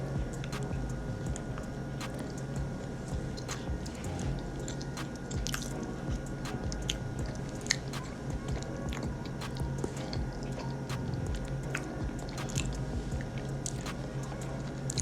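Close, soft chewing and squishing of cake with rum-flavored ice cream, with repeated moist bites and smacks at an uneven pace throughout, quiet and without talking.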